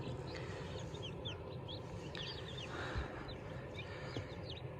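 Young Kuchinsky Jubilee chicks peep busily in a series of short high calls and chirps, close by over a steady low background hum.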